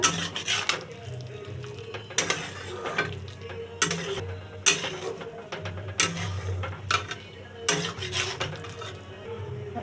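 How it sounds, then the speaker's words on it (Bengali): Sugar being stirred into a potato and aubergine bhorta in a pan, with repeated clinks and scrapes of a spoon against the cookware and a soft sizzle underneath, heard close and alone. "চিনি দিলে টেস্টের লেভেলটা ভালো হয় নেড়ে ছেড়ে দেবো"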